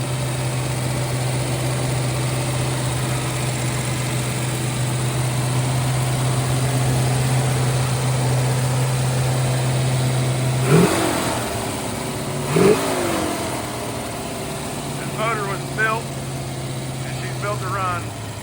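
Original 1970 Ford Mustang Boss 429 big-block with solid lifters idles steadily while warming up, a loud, even low rumble with a couple of brief revs partway through, and someone talks over the engine at times.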